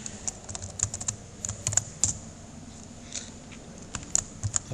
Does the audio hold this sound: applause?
no